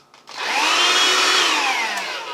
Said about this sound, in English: here is the vacuum cleaner